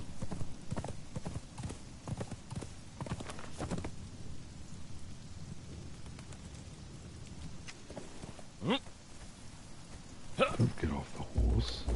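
Horse hooves clip-clop steadily in the video game Conan Exiles, a close rhythmic trot of repeated strikes over rain and distant thunder, with bits of talk around it.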